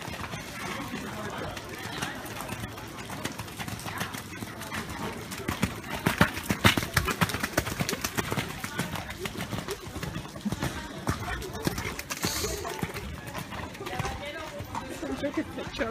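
Horses cantering in a dressage arena during a riding test, with soft rhythmic hoofbeats on arena footing under a called-out instruction and nearby chatter, moderately distant and fairly faint.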